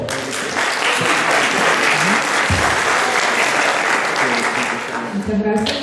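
An audience applauds at a forestry students' congress, dense sustained clapping filling the room for several seconds and thinning slightly at the end, with a voice briefly audible over it.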